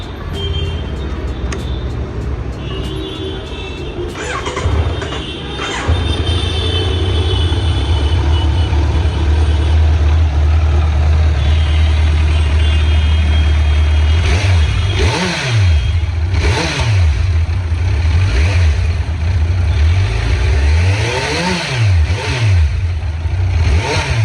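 A 2020 Kawasaki Z900 inline-four motorcycle engine with stock exhaust idles steadily, then revs hard several times in quick rising-and-falling bursts, loud and close, with no talking.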